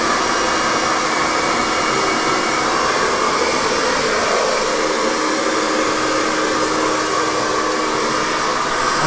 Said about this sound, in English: I really like the cold shot button on this dryer because it doesn't get stuck.